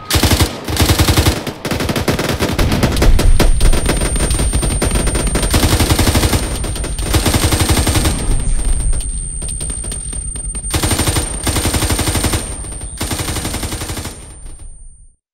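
Vehicle-mounted guns firing in the military game ARMA 3, loud sustained bursts of heavy automatic fire in long repeated strings with short pauses between them.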